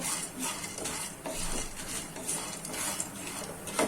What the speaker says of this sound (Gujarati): આપણે ઘીમાં શેકવો જરૂરી છે આ રીતના આપણે ધીમે ધીમે હલાવતા રહેશું